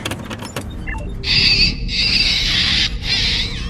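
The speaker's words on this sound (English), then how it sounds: "it sounds like this terrible screeching sound" A harsh, high-pitched electronic screech from a Star Trek: Voyager episode blares loudly in long sustained bursts with brief breaks, grating and piercing, after some faint scattered noises.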